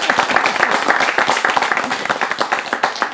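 Studio audience clapping during a Hindi televised discussion about books, a brisk, close burst of many hands at a steady level.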